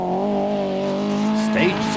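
A Class C Volkswagen Golf rally car in the 1995 Total Autumn Trail rally holds a steady, loud engine drone, then shifts pitch abruptly near the end.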